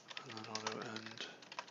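Keyboard typing while writing C++ code, quick irregular keystrokes clicking steadily throughout, mixed with a man's speech over the top.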